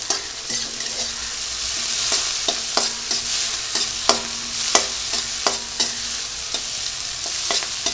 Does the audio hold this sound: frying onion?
yes